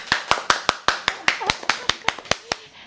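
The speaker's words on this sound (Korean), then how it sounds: "박수!" Steady rhythmic hand clapping, about a dozen sharp claps at an even pace, close and fairly loud, like a small group applauding.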